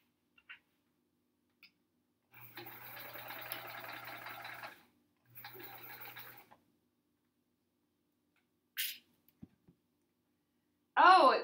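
A sewing machine stitches quilt fabric for an hourglass block quilt in two sustained whirring bursts, close and fairly quiet, separated by a pause, with scattered clicks and a brief voice.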